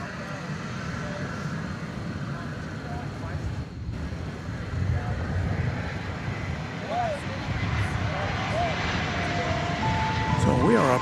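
Qantas Flight 8, the Flying Roo airliner, at DFW Airport at night, jet engine roar building steadily louder toward the end, with a voice talking over it.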